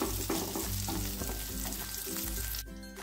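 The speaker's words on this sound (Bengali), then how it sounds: "দু মিনিট পর হালকা করে নাড়িয়ে পটলগুলো তুলে নিতে হবে। ভাজা ভাজা হয়ে এসেছে।" Pointed gourd pieces frying in oil in a pan give a close, steady sizzle with light stirring and utensil clinks, and no speech.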